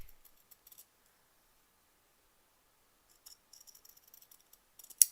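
Pinking shears snip through fabric for a bunny stuffed toy in quiet short bursts, a few crisp clicks early, a long pause, then a quick run of cuts ending in one sharper snap.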